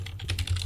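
Quick keystrokes on a computer keyboard as a password is typed, five or six crisp clicks in fast succession, close and clear over a low hum.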